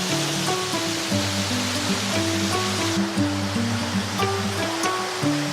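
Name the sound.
waterfall on a mountain path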